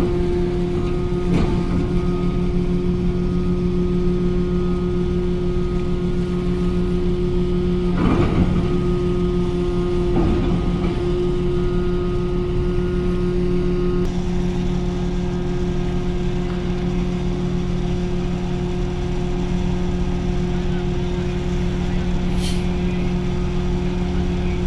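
Steady low engine rumble of a ship moored at Bakauheni port at night, a constant loud drone with a few brief clanks and knocks on top.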